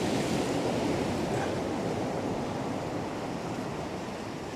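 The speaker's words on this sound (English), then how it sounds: "that wind's still gusting from right to left" Gusting wind blows across a surf beach during sea fishing, a steady broadband roar mixed with breaking waves, loud and close to the microphone with no talk.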